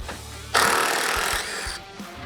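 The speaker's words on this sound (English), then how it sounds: "to get those out, we're just gonna use our handy dandy impact" Impact wrench spinning out a 10mm headlight bolt on a Jeep, a short loud burst of whirring rattle lasting about a second before tapering off, close to the tool.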